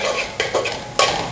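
Fried chicken and carrots get tossed in a pan, with a few quick scraping strokes of a spatula over a low sizzle, close and loud, with no talking.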